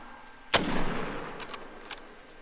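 A single sharp rifle shot rings out in the hunting game The Hunter Call of the Wild, aimed at a moose; the loud crack is followed by a lingering outdoor echo and a few faint clicks.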